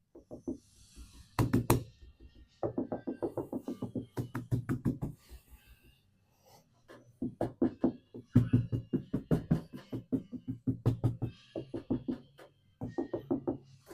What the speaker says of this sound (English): I keep hitting the door, that's making the rattle